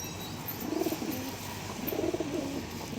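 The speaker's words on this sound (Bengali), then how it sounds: "তো দেখুন পায়রাগুলো দেখুন" Pigeons coo at a Kolkata pigeon market, soft throaty calls repeating in a few bursts over steady background hiss.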